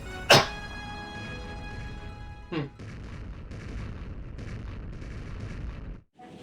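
Cannon fire at Dreadnought's Colossal Cannons in Super Mario Galaxy: two sharp booming blasts a couple of seconds apart over a busy background of game music and effects.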